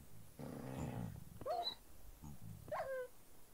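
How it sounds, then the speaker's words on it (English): A dog in the Minecraft SkyFactory modpack growls and then lets out two short whines, near and moderately loud, set against a low ambient game backdrop with no talk. "See, there's a dog somewhere there."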